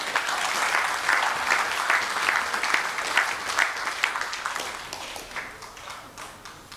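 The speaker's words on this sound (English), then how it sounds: "Please give a round of applause for all those Gary, especially the seniors." Sustained applause from an audience at a 2018 awards ceremony, dense steady clapping that holds at an even level throughout with no voices over it.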